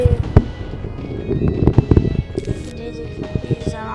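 Sharp, booming explosions from the Plants vs. Zombies video game go off in quick, irregular bursts, several loud pops scattered across a few seconds over a busy mix of game sounds and a voice.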